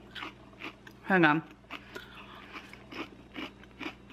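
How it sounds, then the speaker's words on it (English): Crunchy snacks being chewed, with a crisp crunch close to the mic between bits of quiet talk. "I'm chewing on these things. They're so good."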